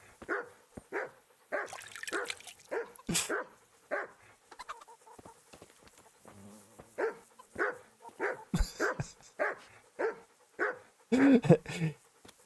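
Dogs barking in the medieval role-playing game Kingdom Come: Deliverance, repeated sharp barks in an irregular rhythm at moderate loudness, with a rooster or chickens also sounding and occasional talk over the top.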